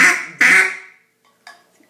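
A hand-blown duck call gives two loud, raspy quacks close together, then a softer, shorter quack after a brief pause, all close and clear.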